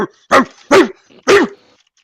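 A dog barks three times in a loud, close, evenly spaced series, with short quiet gaps between the barks and no other sound competing.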